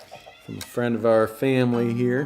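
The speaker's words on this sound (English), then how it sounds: "That was my cat, by the way" A pet cat gives several drawn-out, rising-and-falling meows close to a microphone in a home during a live virtual concert, right after a man's brief spoken words.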